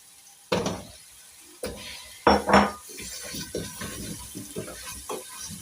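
A spoon scrapes and clanks in a pot as potatoes are stirred into spiced meat for potato pilau, with several loud metal knocks followed by softer repeated scraping and faint sizzling close by.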